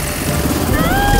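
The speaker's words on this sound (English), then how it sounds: "Let's follow that helicopter." Cartoon helicopter flying close by, a loud continuous rotor thrum with a rising whine toward the end and speech over it.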